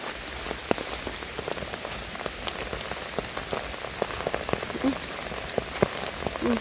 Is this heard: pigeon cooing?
no